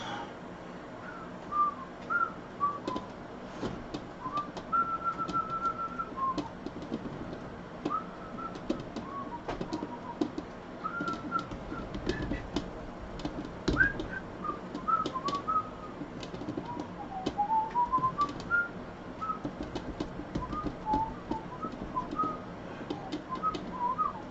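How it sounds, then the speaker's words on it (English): Someone whistling a melody while working paper clay on a ball, the wavering notes fairly faint and intermittent over soft handling clatter and room noise, with no speech. "Probably get in trouble for whistling it on YouTube as well."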